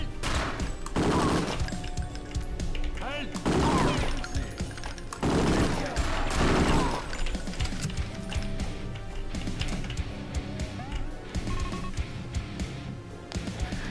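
A Thompson submachine gun fires in the game Brutal Wolfenstein: Escape from Castle Wolfenstein, with several dense, loud bursts of rapid shots spaced a second or two apart over a busy, clattering background.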